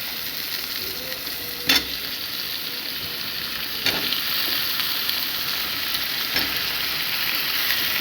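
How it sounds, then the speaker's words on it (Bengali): Steady sizzling of vegetables and mung dal frying in a pan, with a spatula scraping and stirring a few times against a constant hiss of hot oil. "ভালো করে মুগ ডাল দিয়ে নেড়ে চেড়ে নেব। এই দেখুন ভালো করে নেড়ে চেড়ে দিচ্ছি।"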